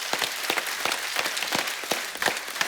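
An audience applauds at a Kesari film promotional event honouring soldiers, with dense, steady clapping and sharp individual claps standing out throughout.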